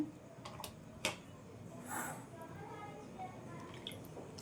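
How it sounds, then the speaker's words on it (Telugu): Water sprinkled by hand into potato pakora batter while it is mixed gives soft, faint wet squishes and a few brief drips, close and quiet. "ఈ విధంగా చిలకరించుకుంటూ కలిపేసుకోండి"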